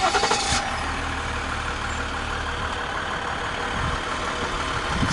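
A RAM 1500 Longhorn Crew Cab 4x4 pickup, low on fuel, starts by remote and settles into a quiet, steady idle, heard close and alone with a brief louder burst at the start.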